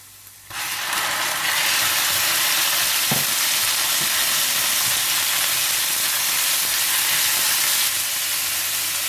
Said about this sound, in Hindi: और जैसे ही ऑयल गर्म हो जाए तो आप इसमें डाल दें लहसुन और थोड़ा सा फ्राई कर दें। और साथ ही आप डाल दें इसमें चिकन।